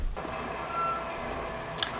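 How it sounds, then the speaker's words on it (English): A garbage truck works outside, heard through the walls as a steady, low engine rumble with faint tonal whines and a brief beep near the end. "That garbage truck really wants to do this now."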